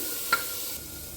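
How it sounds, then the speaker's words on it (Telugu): Soaked toor dal drops into a hot cooker pot with a brief splash, followed by a steady, soft sizzle. "వేడెక్కిన తర్వాత నానబెట్టి ఉంచుకున్న కందిపప్పు వేసేసుకుంటామండి"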